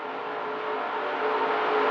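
NASCAR stock cars race past through a corner in 2002, a steady, loud engine roar that swells slightly as the cars pass close by, with no voices over it.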